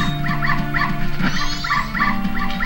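Dogs in the Majora's Mask dog race video game yip and bark in short repeated bursts over steady game music, moderately loud, with no talk.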